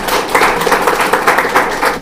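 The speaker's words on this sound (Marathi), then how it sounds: "एकदा सर्वांसाठी जोरदार टाळ्या होऊन जाऊ द्या." Applause from an audience at an award ceremony honouring police staff, loud dense clapping close by that continues without break.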